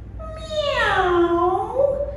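A voice imitates a cat's meow for a children's story: one long, drawn-out call that rises and then slides down, clear and close against a quiet background.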